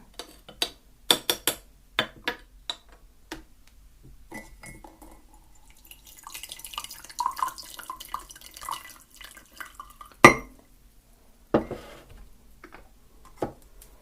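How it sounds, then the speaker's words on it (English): A spoon stirs green tea in a cup, giving a series of sharp, close clinks against the cup at an uneven pace, with a busier swirl of softer scraping in the middle and a few final taps. "Let's just give this a bit of a stir."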